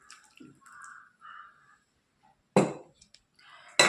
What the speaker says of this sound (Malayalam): ആവശ്യത്തിനുള്ള വെള്ളം നമുക്ക് ഒഴിച്ചു കൊടുക്കാം കേട്ടോ